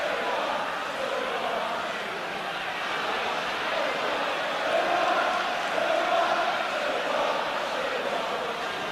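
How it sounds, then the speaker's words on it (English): Arsenal supporters at a 1980s match against Tottenham Hotspur fill the stadium with a steady, massed roar of chanting voices that swells slightly midway and carries on without a break. "An Arsenal crowd reminding us of the score"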